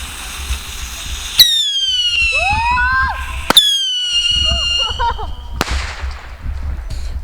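Fireworks at an Independence Day celebration in the United States: three sharp booms with whistling, crackling trails between them, near and loud, with faint background voices.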